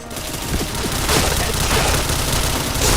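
Dense, rapid gunfire bursts in a shooter video game crackle continuously and fairly loudly, with overlapping shots and booms filling the whole stretch.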